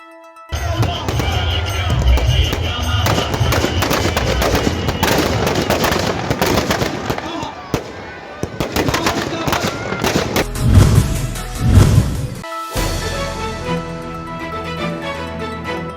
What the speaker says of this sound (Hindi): इस दौरान आयोजक समिति द्वारा पहले तो यहाँ जोरदार आतिशबाजी की गई, जो आकर्षण का केंद्र बनी रही।